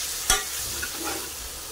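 Masala for chicken biryani being stirred in a pan, with one sharp scrape of the spoon near the start, then a soft, steady sizzle and faint scraping.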